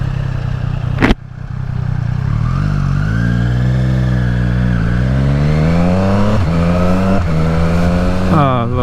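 Triumph Street Triple R motorcycle accelerating hard, its engine note climbing in pitch through several rapid quick-shifter upshifts, each marked by a brief dip, loud and close over steady wind noise after a sharp knock at the start.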